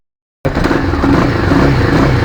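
An RKS Winner 200 motorcycle engine runs steadily after a sudden start, a loud, close, continuous idle-like drone with a rough, throbbing clatter and no pauses.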